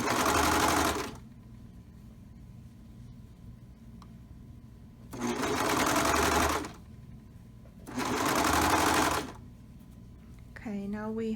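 Sewing machine stitching a knit neckband onto a t-shirt neckline, running in three steady bursts of about a second or more each with quiet pauses between, close and clear, ending with a brief bit of speech.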